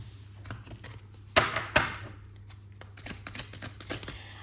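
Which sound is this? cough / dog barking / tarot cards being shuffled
tarot cards being shuffled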